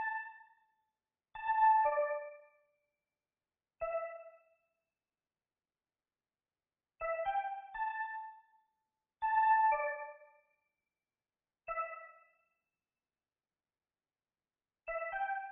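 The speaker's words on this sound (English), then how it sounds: "Next thing I used was like this trippy like synth sound that sounds like this." A trippy synth in a hard trap beat plays short bell-like chord stabs in separated bursts with silent gaps between, bright and echoing with no voices.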